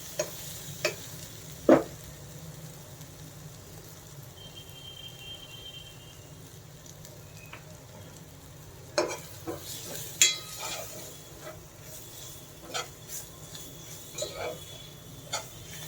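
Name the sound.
gram flour frying and being stirred with fenugreek leaves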